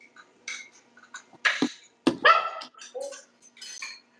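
A dog barks and yips in several sharp, close bursts of uneven rhythm, loud against a quiet indoor background.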